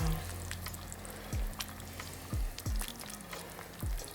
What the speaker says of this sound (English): And now I should mix everything here